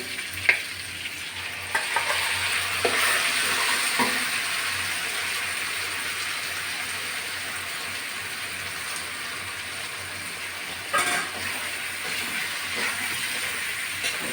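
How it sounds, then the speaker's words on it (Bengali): Potatoes and peas fry with spice paste in a pan, a continuous hissing sizzle broken by repeated spoon stirs and scrapes against the metal, close and fairly loud. "আলুগুলো মশলা দিয়ে ভালো করে কষিয়ে নেবো"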